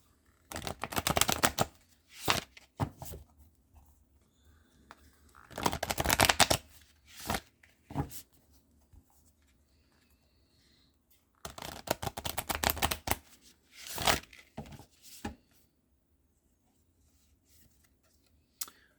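A deck of tarot or oracle cards being shuffled in several close, crisp riffling bursts separated by quiet pauses.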